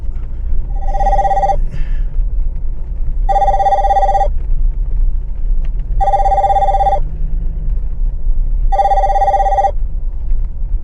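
A phone rings with an incoming call, four evenly spaced electronic ring bursts about two seconds apart, clear and fairly loud over a low rumbling background.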